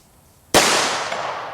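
A single sharp gunshot fired at steel target plates about seven yards away on an outdoor range, a loud sudden crack with a long ringing decay trailing off, no talk.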